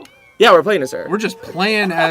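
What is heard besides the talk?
cat meowing in The Sims 4 video game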